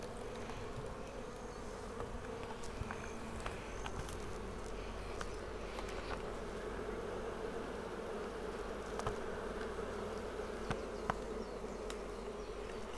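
Honey bees swarm around an open hive during an inspection, giving a steady, dense buzzing drone that holds throughout at moderate loudness, with no voices.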